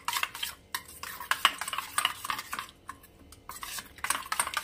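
Spoon stirring two spoonfuls of spice paste into Rajasthani dhaba-style chana dal, with scraping and clinking against the pot in uneven bursts and brief pauses, fairly close and with no talking.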